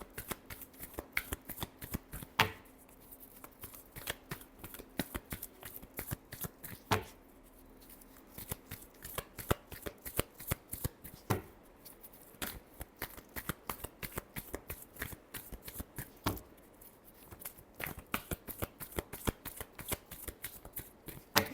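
Close, quiet hand-shuffling of a tarot deck gives quick papery clicks and riffles in repeated bursts separated by short gaps, with no talking over it.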